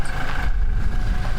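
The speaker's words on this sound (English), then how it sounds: "Listen to my exhaust!" A car exhaust rumbles low and steady at close range, a continuous idling drone without clear revving or talk.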